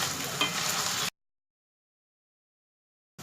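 Paneer fries in a pan with a steady hiss and crackle for about a second, then abrupt silence before the sizzle briefly returns.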